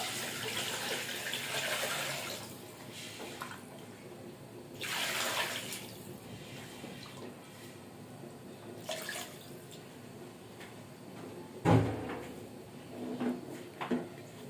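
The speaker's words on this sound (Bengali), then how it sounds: "এবার আমি এখানে পরিমাণ মতো পানি দিয়ে নেব" Water pours from a vessel into a pot of mixed khichuri in a home kitchen, in a few soft gushing bursts with a sharp clank near the end.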